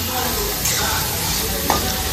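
Vegetables for fried rice are stirred in a hot pan, giving a brief, close sizzle with a spatula scrape or two.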